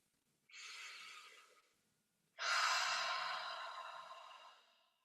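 Darth Vader breath, an audible breathing exercise: two long, hoarse, throaty breaths, a shorter one followed after a pause by a longer, louder one that fades out slowly, heard close and alone.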